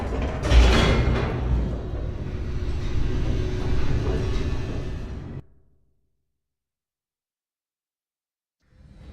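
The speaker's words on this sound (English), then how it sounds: "The elevator raced downward, plummeting towards an unknown fate." Elevator in The Stanley Parable video game plunging downward, a loud rumbling, rattling rush like a rail car that cuts off abruptly into silence before a faint return at the end.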